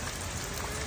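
Rain falls in a steady, even hiss of dense drops, faint and continuous through the short moment, with no voices.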